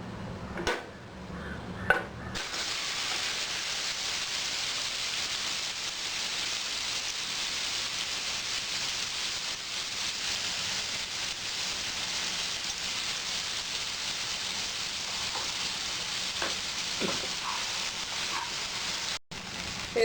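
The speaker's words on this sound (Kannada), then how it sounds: "ಪನ್ನೀರನ್ನ ಫ್ರೈ ಮಾಡ್ಕೊಳ್ಳೋಣ." Paneer frying in about a tablespoon of oil in a pan, a steady close sizzle with dense crackling that carries on without break, with a couple of brief clinks from handling near the start.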